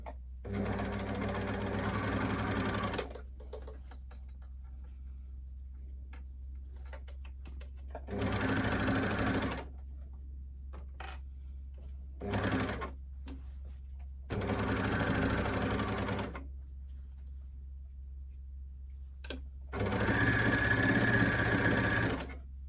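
A sewing machine stitches a sleeve into the armhole of a knit T-shirt in five bursts of fast, even buzzing, with quiet pauses between runs and a low steady hum underneath.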